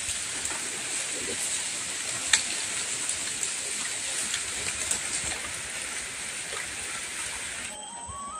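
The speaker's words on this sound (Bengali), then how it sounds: "বৃষ্টি পড়ে যাচ্ছে টপ টপ টপ টপ।" Steady, heavy rain from Cyclone Remal pours over a village house in an even, unbroken hiss with occasional sharper drops, continuing for several seconds before a faint tonal sound appears at the end.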